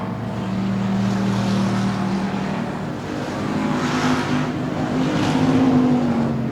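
Race cars at Texana Raceway Park during a 15-lap race, a loud continuous roar of engines that rises and falls as the cars pass by.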